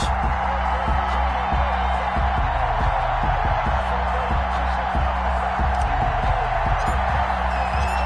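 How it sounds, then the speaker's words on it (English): Simulated stadium crowd in an EA Sports football game on PS4, Indianapolis Colts versus Tennessee Titans, roars steadily throughout with a low, continuous rumble beneath it. "This crowd is ready as their guys get set to match up between the Indianapolis Colts and the Tennessee Titans."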